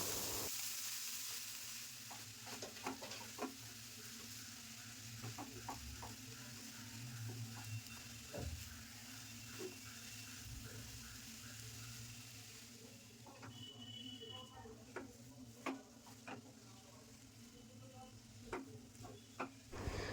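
Khoya kheer is stirred into grated coconut in a pan, with a soft sizzle under repeated scraping and tapping strokes of a spoon, fairly quiet and steady with no voices.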